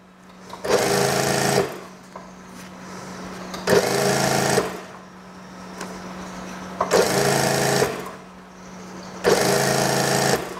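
A sewing machine stitches an elastic waistband onto the side of a school skirt, running in four loud, steady bursts of a few seconds each, separated by quiet pauses.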